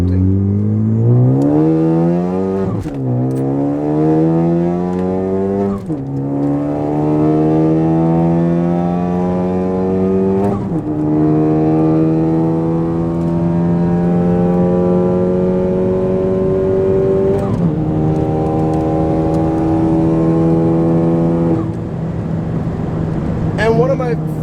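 A car fitted with a CPE hotside chargepipe and turbo accelerates hard through several gears, its engine note rising steeply and then dropping at each shift, loud and close, with some talking over it.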